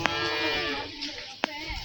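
A Holstein Friesian (HF) dairy cow on a farm gives one long, low moo with a rich, harmonic tone. It is close and clear, and a couple of sharp clicks break in briefly.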